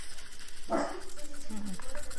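A single sharp dog bark in the distance, followed by a brief whiny yip, heard faintly over a quiet room.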